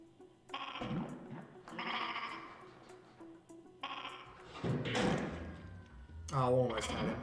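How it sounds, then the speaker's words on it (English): Sheep in the video game Escape Plan let out several wavering bleats, the last two loudest near the end, amid soft game background sounds and a few door-like thumps. "Oh look, sheep."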